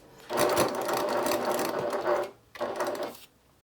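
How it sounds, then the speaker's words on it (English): Sewing machine stitching a folded strap loop for a toiletry bag, running steadily close up for about two seconds, pausing briefly, then stitching again for a shorter run. "I start folding and sewing the 1/2 of the strap, and I'm sewing it in place 1/8 of an inch seam allowance from that center line"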